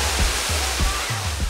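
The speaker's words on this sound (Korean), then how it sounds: "물소리 따라가는 길" Water of a stream flows steadily close by with a broad rushing hiss, continuous throughout, with soft low thumps underneath.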